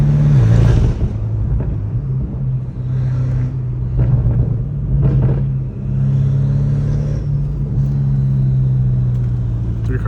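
A 650 hp BMW M5 Competition drives with a steady, loud engine drone and deep rumble, swelling briefly as it revs, heard close from inside throughout.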